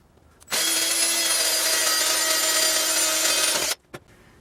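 A power drill with a number 21 bit bores into a metal machine knee, running steadily for about three seconds with a loud, high whine, then stops abruptly, followed by a brief clunk.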